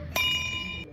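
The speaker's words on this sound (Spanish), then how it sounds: "las campanas rompen la quietud a las 9" A single bell strikes at night in Patate, a bright ringing tone with a sharp attack that sustains and slowly fades over about a second, clear and alone.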